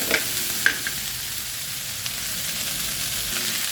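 Rice sautéed with onion in a pan sizzles steadily, with a few sharp utensil clinks and scrapes over the constant frying hiss.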